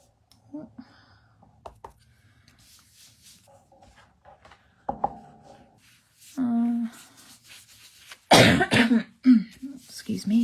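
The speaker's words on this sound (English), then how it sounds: "I'm actually just getting over a cold, so I'm still a little bit coughing a little bit" A presenter recovering from a cold coughs and clears her throat, a few short, fairly close bursts separated by quiet gaps, with brief speech and small rustling around them.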